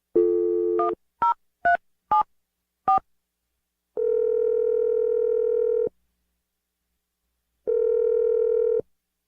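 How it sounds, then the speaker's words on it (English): A telephone number being dialed: a short burst of dial tone, then five quick, evenly spaced keypad tones, followed by two long ringback tones separated by silence, clear and close with no talking. "I'm gonna dial the number right now."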